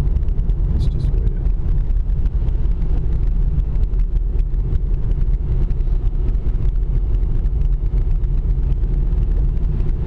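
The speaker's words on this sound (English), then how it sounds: "Sloshing under the tires, those." A car drives a snowy mountain road with a continuous low rumble of tires through wet snow and road noise, steady and close throughout with no clear break.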